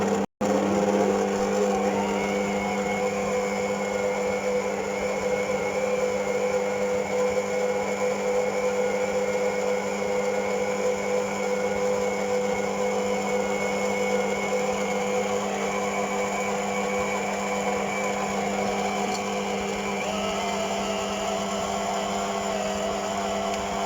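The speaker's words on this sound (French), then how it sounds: "دونك درت الزبده، زدت عليها السكر كلاصي وغادي نطربهم مزيان." An electric mixer beating butter with icing sugar for Eid cookie filling, a steady loud whirring motor hum that runs unbroken with only slight shifts in pitch, with no voices.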